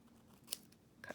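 Scissors snipping paper for a Bible journal page, a quiet room with one brief crisp snip near the middle and a faint rustle at the end.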